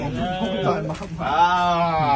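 A goat bleats loudly and close by indoors, two drawn-out wavering cries in quick succession with a short break between them.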